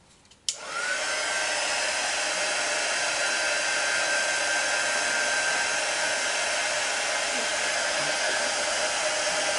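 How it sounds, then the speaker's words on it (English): A heat gun blasting hot air downward to melt crayons, switching on with a click and then holding a loud, steady whooshing roar at close range for several seconds, with no talking. "you kind of have to take the heat gun and press downwards on the little like sprinkles you're already getting"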